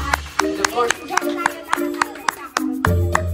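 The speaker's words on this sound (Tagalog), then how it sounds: "Palakpakan naman. Palakpak!" A family claps at a Christmas gathering, a steady rhythmic run of sharp claps roughly four per second, close by, with voices calling out underneath.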